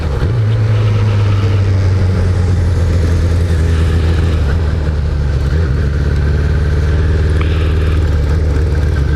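A 1999 Suzuki Bandit motorcycle engine idles with a steady low rumble, close and continuous, with faint background noise and no voices.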